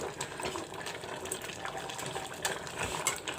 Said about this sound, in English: This is the mutton water coming out from it.